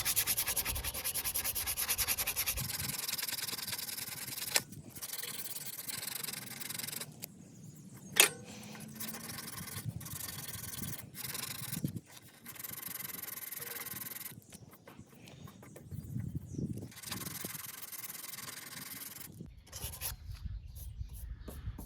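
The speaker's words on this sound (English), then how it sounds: "Okay, some used fine grit sandpaper." Fine-grit sandpaper rubs over the magnets on a push mower flywheel in rapid back-and-forth scratchy strokes, close and continuous, with short pauses and a few sharp knocks between bursts.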